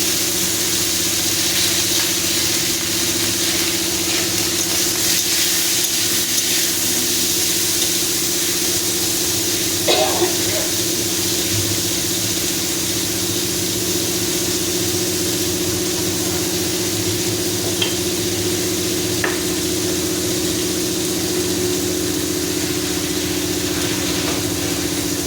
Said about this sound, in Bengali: আলু বেগুন বড়িটা ভাজা ভাজা হবে।